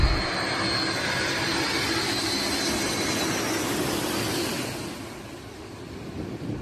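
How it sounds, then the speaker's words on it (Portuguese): A loud roar of jet engines passes close overhead, a broad sustained rush that gradually fades as the aircraft moves away. "O pior é o barulho que as turbinas fazem, chegando a tremer as paredes quando o avião passa"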